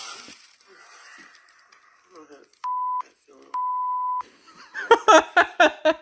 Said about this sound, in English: I love the beeps